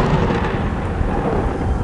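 In an animated storm scene, thunder gives a continuous heavy, deep rumble with rain-like noise beneath it, steady and loud throughout, with no voices.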